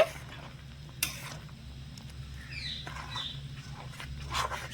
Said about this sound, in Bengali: দেড় বাটি মতন চালের গুঁড়ো এবারে ভালো করে ছেড়ে মিশিয়ে নেব